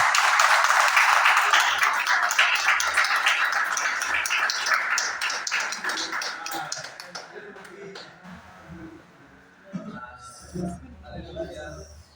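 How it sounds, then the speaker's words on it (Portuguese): A church congregation claps for Jesus, dense fast clapping loud at first and gradually thinning out, with scattered voices and murmured talk as it fades near the end. "As palmas ao Senhor Jesus."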